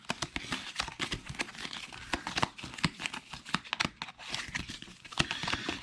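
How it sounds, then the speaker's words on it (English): A card deck for a Mandalorian-themed tabletop game being shuffled by hand, with a dense run of quick papery riffles and crinkling bursts close by and fairly quiet, and no talk over it. "I'm going to shuffle it."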